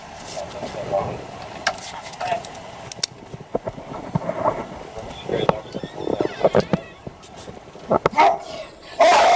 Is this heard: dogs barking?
yes